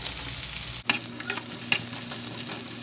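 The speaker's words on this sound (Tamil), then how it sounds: "நல்லா வெங்காயம் வணங்குற மாதிரியே வணக்கி விட்டுறலாங்க" Onions sautéing in hot oil with cinnamon and cardamom for a mutton biriyani, a steady close sizzle and crackle throughout, with a few clinks and scrapes of a stirring spoon against the pan and no talk.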